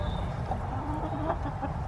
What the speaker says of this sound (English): So this is one of my broody hens.